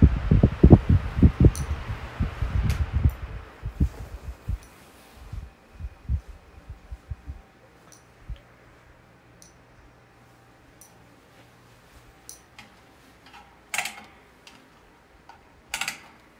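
Two AirKing 12-inch 9212 fans winding down: a loud rhythmic thumping that slows and fades to a quiet hum, with a couple of faint clicks near the end.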